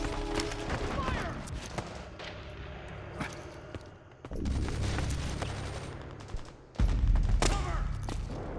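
Heavy rapid gunfire crackles through a Metal Gear Solid 4 firefight in South America, with sustained bursts broken by short lulls. Soldiers shout over the shooting.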